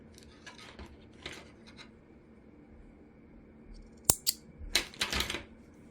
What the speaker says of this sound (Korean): 실을 잘라줍니다.